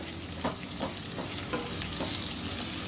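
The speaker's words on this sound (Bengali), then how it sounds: "এবার দিয়ে দেবো তিনটে কুচিয়ে নেওয়া পেঁয়াজ" Three chopped onions fry in hot oil for a taro-root curry, a steady close sizzle broken by repeated scraping stirs of a spatula in the pan, with no talking.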